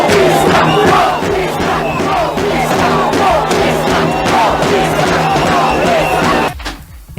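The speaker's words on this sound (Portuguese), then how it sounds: "foram recebidos com vaias e gritos" A loud crowd boos and shouts at arriving guests, politicians and Curitiba high society, near Largo da Ordem; a dense, continuous roar of jeers and yells that cuts off abruptly near the end.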